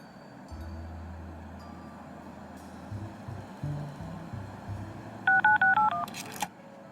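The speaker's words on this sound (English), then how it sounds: "Okay, what should I dial?" Telephone keypad dialing tones from the Leisure Suit Larry video game, a quick run of about six distinct beeps near the end, heard over a low background music bed.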